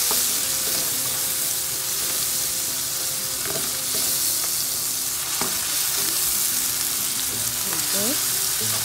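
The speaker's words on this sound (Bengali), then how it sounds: "মশলাটা নেড়ে নিয়েছি" Spices fry in a pan with a steady sizzle while being stirred, with scattered clicks and scrapes of the spoon against the pan, heard close up during preparation of a cabbage dish with soaked lentils.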